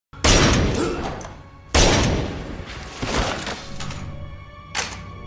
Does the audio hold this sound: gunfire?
yes